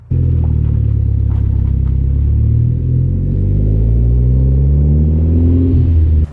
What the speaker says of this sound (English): Perfect weather for driving an Escort Cosworth, nice and dry.